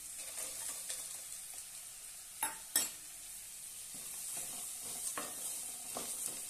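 A spoon stirs farsan through a dry vegetable dish sizzling in a pan, giving a faint, steady frying hiss with a few sharp scrapes and clinks, close by and with no talking.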